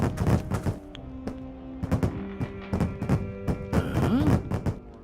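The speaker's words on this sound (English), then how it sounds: "Sounds like explosions in the stove." Explosions go off inside a stove in The Book of Unwritten Tales video game, a rapid irregular string of sharp bangs and pops, some louder and closer than others, with no talk.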